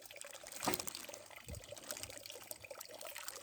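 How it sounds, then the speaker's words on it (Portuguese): Pond water being poured into a plastic bag holding fish, a soft splashing gurgle peaking early, then light trickling and dripping under faint background hum. "Vou pegar um pouquinho da água do laguinho aqui dentro"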